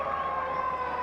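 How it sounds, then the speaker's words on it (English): The half-time siren sounds at a 2011 Currie Cup rugby match involving the Golden Lions, a steady, sustained wailing tone held at moderate volume across the whole moment. "In fact, there goes the siren."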